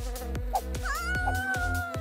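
A cartoon bee buzzes in a quick, high, wavering whine over a steady beat of short rhythmic clicks and thumps in the cartoon soundtrack.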